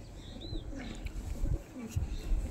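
Kasuri pigeons coo faintly in a low, muffled murmur beneath steady background noise, with a few soft swells rather than distinct calls.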